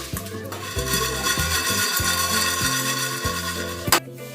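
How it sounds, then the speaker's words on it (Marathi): Rhythmic scraping and stirring as spices for aluvadi filling are dry roasted in a pan, a spatula knocking at regular intervals, ending with a sharp clank. "आणि आता हे सर्व साहित्य चांगलं असं भाजून घ्यायचं सुगंध येईपर्यंत"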